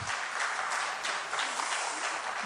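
A church congregation claps for a visiting pastor at a small-group meeting: full, steady applause from many hands, close and continuous, with no talking over it.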